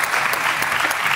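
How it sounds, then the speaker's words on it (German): Brief burst of dense studio audience applause on a live music quiz show, steady and full for the whole moment, with faint voices under it. "Tobi, nochmal Applaus."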